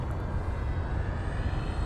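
Electric motor and propeller of a Dynam Waco 50-inch RC biplane in flight at reduced throttle, a steady buzzing drone with slight wavering, moderately loud and heard alone.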